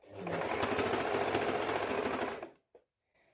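A sewing machine runs steadily for about two and a half seconds, stitching a gathered sleeve head, then stops, leaving a brief small click and near silence.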